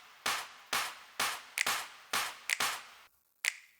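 Dry, sharp finger-snap and clap samples from a progressive house track hit in a steady repeating pattern, about eight crisp transients with short decays, some doubled, alone with no other instruments.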